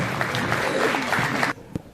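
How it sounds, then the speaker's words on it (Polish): Audience at a regional amateur art exhibition awards ceremony clapping steadily, a dense crowd of hands filling the room before stopping abruptly, followed by a single stray clap. "proszę Państwa, wielkie brawa"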